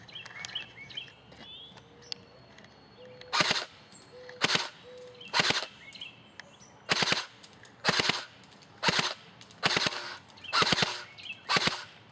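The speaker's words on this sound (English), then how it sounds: "Let me shoot from the other side, maybe it'll be better." An airsoft gun fires BBs at a tree outdoors, eight loud sharp single shots spaced about a second apart, with faint birdsong in the background before and between them.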